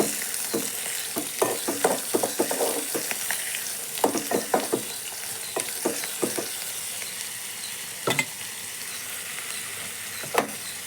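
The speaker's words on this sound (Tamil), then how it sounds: "அந்த ஆயிலே கொஞ்சம் நேரம் வதங்கட்டும்" Onion, curry leaves, coriander, grated carrot and beans sauté in oil in a pan, with a continuous close sizzle punctuated by irregular scraping strokes of a spatula.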